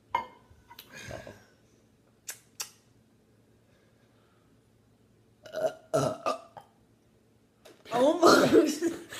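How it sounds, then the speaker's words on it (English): Burps in a burping contest, a few short bursts separated by pauses, with the loudest and longest belch at the end, close to the microphone and free of speech. "I'm getting schooled on burping."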